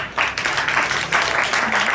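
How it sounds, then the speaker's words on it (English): Audience clapping at a school staff appreciation award ceremony honouring punctual teachers, a brisk, fairly loud burst of applause that holds steady for the full two seconds. "a big round of applause for the always punctual"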